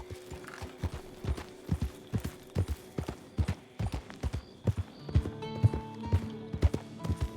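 Horse hooves clip-clop at a steady walking rhythm on a misty night path near Saint Denis in Red Dead Redemption 2, with distinct close thuds and some creaking tack toward the end.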